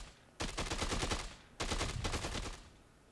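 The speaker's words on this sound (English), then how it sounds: "Bob, who is shooting lots of zombies" Gunfire from zombie shooting in the video game Dead Rising 2 comes as two rapid automatic bursts, each about a second long, separated by a short pause and fairly loud against a quiet background.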